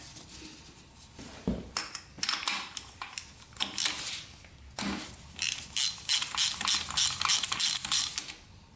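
A ratchet wrench clicks in short bursts while working spark plugs out of a Honda motorcycle, close metallic ratcheting with gaps between turns and occasional clinks of metal parts.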